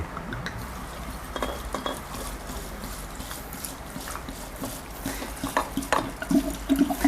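Liquor poured over frozen ume plums in a container for pickling, a continuous splashing, gurgling pour with small clinks of glass, close by, growing slightly louder toward the end, no talking.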